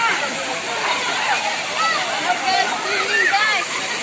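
Bukit Gibeon waterfall near Lake Toba, a loud, steady broadband rush of falling water heard up close and continuously, with no breaks.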